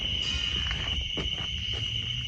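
Crickets in a forest keep up a steady high chirping drone, close and continuous beneath some low rustling and faint footstep-like thuds.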